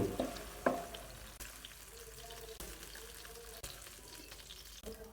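Local mushrooms sautéing in a pan: a soft, steady sizzle with a few louder clicks and clatters of stirring, fairly quiet and close.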